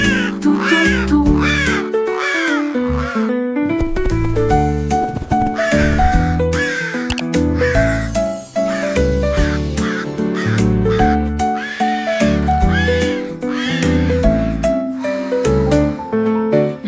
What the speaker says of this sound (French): Un chant de corbeaux tout autour.